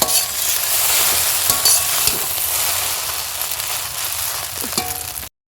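Chow mein stirred and tossed in a hot frying pan, a steady loud sizzle with scraping and clinking spatula strokes throughout, no talking.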